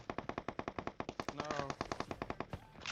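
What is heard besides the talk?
gunfire in the video game PUBG Mobile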